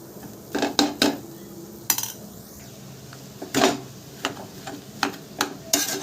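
Spoon scrapes and clanks against a metal kadhai as potatoes are mixed into masala, several separate knocks spaced irregularly over low background noise.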